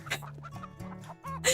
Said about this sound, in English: I can hear the cries of chickens and other farm animals in the distance